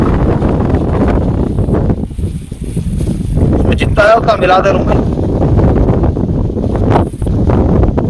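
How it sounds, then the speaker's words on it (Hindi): Wind gusting across an open riverbank during rohu fishing, a steady loud rushing roar that buffets the microphone throughout, with someone talking over it. "जरा हवा चल रही ना"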